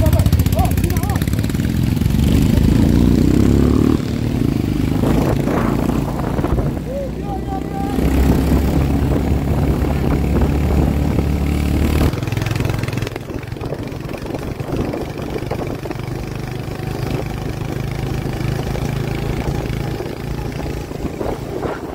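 A group of about seventeen or eighteen motorbikes rides slowly through a traffic jam on the way to Barsey Rhododendron Sanctuary. Steady, loud engine droning and idling continues throughout, with the tone shifting as the bikes move.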